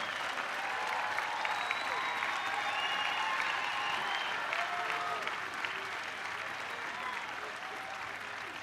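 Sustained applause from graduates and parents at the Springfield High School class of 2007 graduation ceremony, a steady even wash of clapping from a large crowd lasting the whole stretch, with faint voices underneath.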